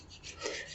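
Hands rubbing a flexible piece of material between the palms in a quiet ASMR healing session, producing a soft, continuous, close-up rasping rub with no voice.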